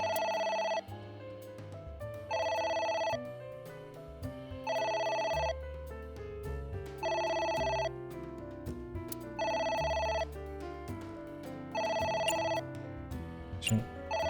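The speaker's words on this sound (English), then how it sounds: "A phone. Should I pick it up?" An old-style telephone rings in the video game AI: The Somnium Files, with seven bright bursts at even intervals of about two seconds over soft background music.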